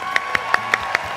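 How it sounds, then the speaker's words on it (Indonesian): An audience claps for an elderly woman on a live comedy show stage, with sparse, evenly spaced single claps ringing out about five times a second over a faint background hum. "Kita bagi tepukan untuk Mak."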